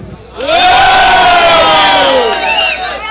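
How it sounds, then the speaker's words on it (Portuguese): A live crowd at a Brazilian MC rap battle erupts in loud, sustained cheering and shouting for MC Lucas Black during the audience vote, swelling suddenly after a brief lull and holding a dense roar of many voices to the end. "faz barulho pro Lucas Black"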